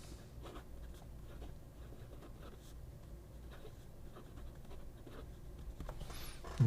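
A fine-nib EDC pen scratches across paper in short, faint strokes, close and quiet, with small pauses between them.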